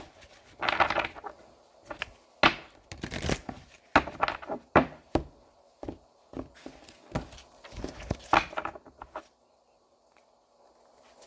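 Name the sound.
tarot cards being shuffled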